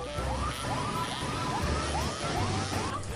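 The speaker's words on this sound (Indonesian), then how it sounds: "sepanjang perjalanan, sirine mobil damkar dibunyikan" A fire truck siren wails during a wedding procession, its repeated rising-and-falling sweeps cycling steadily and loudly over street and engine noise, with no talking.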